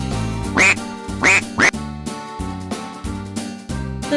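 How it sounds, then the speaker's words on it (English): A duck quacks loudly and close, in a handful of distinct nasal calls with short gaps between them, alone and clearly heard, set in a children's animal sounds song. "The duck says quack,"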